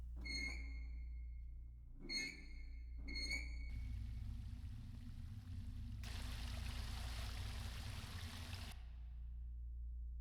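In the horror game Carnival Massacre, three short tonal beeps are followed by a rushing wash of water draining from the Tunnel of Love. The flow swells louder partway through and then cuts off abruptly, all over a low, constant hum.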